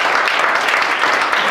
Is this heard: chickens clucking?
no